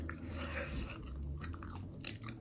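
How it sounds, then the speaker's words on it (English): Someone chews gum close up, soft moist chewing and small clicks running steadily through the clip, fairly quiet, with no speech. "This chewing gum I've been chewing"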